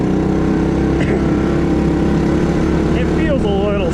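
A 1970 Honda ATC US90 three-wheeler runs in second gear, its small engine droning loud and steady and sounding somewhat sluggish, with a voice talking over it.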